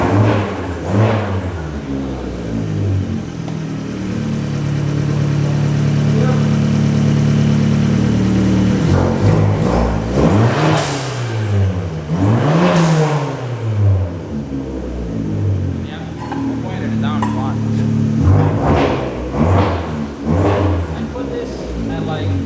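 A homemade welded push car's engine and exhaust rev up and down in repeated swells, loud and close, with a lower idle between the bursts and people talking throughout.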